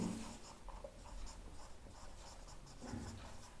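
Chalk or marker writing on a board during a civil engineering lecture on weld design, a steady scratchy scraping with short strokes running throughout, fairly close and alone with no talk.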